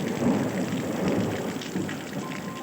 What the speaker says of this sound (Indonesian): Guntur menggelegar.